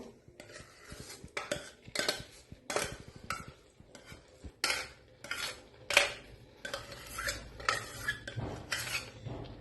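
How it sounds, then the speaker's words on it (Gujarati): A ladle stirs boiled dals into a pot of part-cooked rice and lentil khichdo, giving repeated scraping and clinking strokes against the pot in an uneven rhythm, fairly close and moderately loud, with no talking. "હવે આપણે આ જે દાળો બધી બાફી છે એ બધી અંદર મિક્સ કરી દઈશું"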